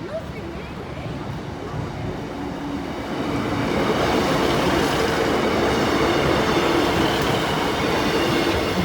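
A pair of Class 153 diesel units at a station gives a steady loud rumble that swells after a few seconds, with continuous wheel and engine noise and no clear talk.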